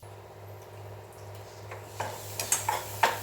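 Spoon scraping egg curry masala around a pan, a few soft scrapes and light clinks building near the end over a steady low hum, close and fairly quiet.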